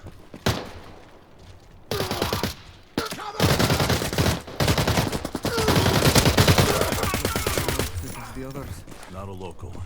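Bursts of rapid automatic gunfire in the shooter game Arena Breakout crackle loudly and densely, with short gaps between volleys and a voice speaking near the end.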